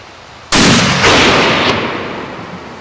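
A single loud, close gunshot rings out during a wild boar hunt in northern Tajikistan, cracking sharply and then rolling away in a long echoing tail with a couple of further flares in the decay.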